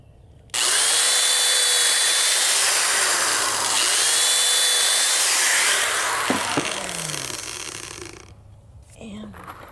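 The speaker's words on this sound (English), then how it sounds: "I'm going to drill 2 pilot holes." A power drill bores two pilot holes in wood for a small Adirondack-style pet chair, whining loud and close with rising and falling pitch as the bit bites, then slowing and stopping.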